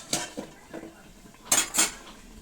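A metal lid is lifted off a pot of simmering potato and tomato curry, with a few light clinks and scrapes of metal against metal, then two sharper clanks close by.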